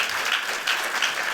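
Audience applause greeting a speaker at a Harvard GSD lecture, steady dense clapping from a full room throughout, with no voices over it.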